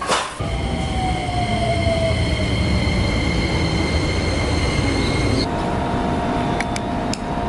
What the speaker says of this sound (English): let's go catch the train